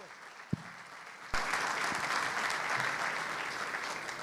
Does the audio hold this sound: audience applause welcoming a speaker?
yes